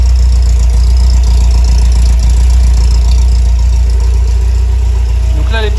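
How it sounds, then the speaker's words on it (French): An MGB GT engine idles while warming up after a restart, a loud, steady low drone with an even mechanical throb filling the whole stretch close to the car. "on a redémarré la voiture de telle manière à faire chauffer le moteur"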